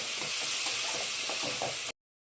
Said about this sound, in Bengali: এবার বেশ ভালো করে এগুলোকে একটু ভেজে নেব।